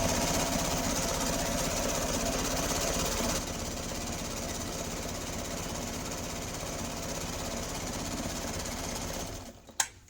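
A sewing machine runs a zigzag stitch along fabric for a home-made chair cushion, a loud, steady rapid whirring and clatter that eases slightly partway through, then stops abruptly with a brief click at the end.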